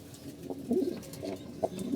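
Pigeons, a kept pair with young, give several soft, low throaty coos in short bursts, close by and fairly quiet with no talk over them.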